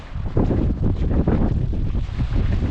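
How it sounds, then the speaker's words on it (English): Strong wind buffets the microphone on a coastal cliff-top path along the south coast of England, a steady, loud broadband roar with gusty swells throughout and no talking. "It's a bit windier up here."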